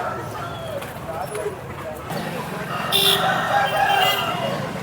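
A red-plumaged rooster, about 4.5 to 5 kg and over 23 inches tall, crows at a rooster market in Vijayawada. A loud, drawn-out call rises near the end over steady nearby talking.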